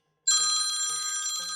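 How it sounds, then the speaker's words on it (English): A telephone rings suddenly out of silence, a bright electronic trill in short repeating pulses, clear and close, with no voices. "That's the phone, y'all."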